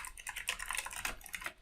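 Quiet, rapid keystrokes clatter on a computer keyboard while code is entered for an Excel SQL Server querying tool, in an irregular run of light taps with no voices.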